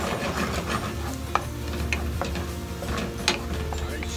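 Lettuce stir-fried with garlic in a pan over low heat makes a steady, close sizzle and hiss, broken by a few sharp ticks of the utensil against the pan.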